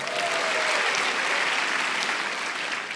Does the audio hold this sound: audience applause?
yes